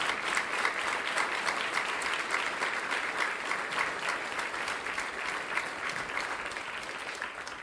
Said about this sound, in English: let's give a big round of applause to each of our Salute to Women Award recipients.